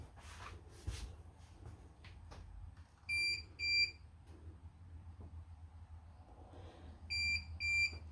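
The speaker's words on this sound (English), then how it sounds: "what I don't like is the refrigerator's beeping" Electronic beeps from a refrigerator in an RV bunk area sound in two pairs of short, high-pitched tones several seconds apart, with quiet rustling and handling noise in between.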